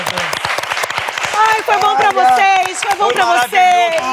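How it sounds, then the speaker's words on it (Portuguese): Live audience applause at a Brazilian podcast taping, dense clapping mixed with cheering and a voice rising over it, loud and close throughout. "Uma salva de palmas!"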